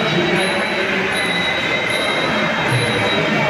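Heavy rain drums steadily on a corrugated tin roof at a Thai boxing event, a dense continuous wash of noise with faint high squeaky tones recurring above it and no talk.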